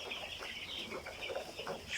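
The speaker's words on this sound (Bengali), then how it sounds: "এগুলি অরিজিনাল মিশরীয় ফার্মি মুরগির বাচ্চা" Egyptian Fayoumi chicken chicks cheep and cluck in a steady, busy chorus of overlapping high calls, close by and fairly quiet, with no voices.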